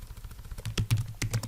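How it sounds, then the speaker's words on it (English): Quiet, quick keystrokes on a computer keyboard tap out a short burst of irregular clicks while a command is entered during a Cisco router lab. "So I'm typing"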